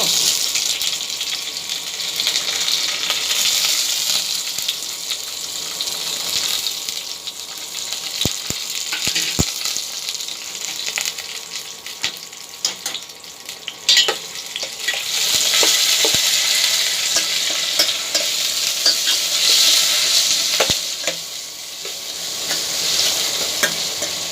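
A pan tempering of garlic, dried red chillies, curry leaves, cumin and onions fries loudly and steadily, with a continuous sizzle broken by scraping stirs and occasional clinks.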